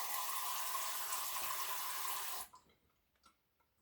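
A tap runs steadily into a sink while filling water for houseplants, then shuts off abruptly, leaving a few faint drips.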